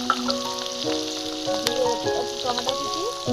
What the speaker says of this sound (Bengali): টমেটো কুচি দিয়ে আমরা ভেজে নিচ্ছি